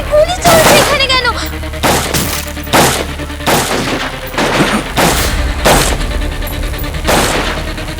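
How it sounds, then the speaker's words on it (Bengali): Gunfire in a CID TV drama scene: a rapid series of about ten sharp, loud shots at irregular intervals, with glass-like crackle and echoing booms and no clear voices over it. "আরে গুলি চলছে এখানে কেন?"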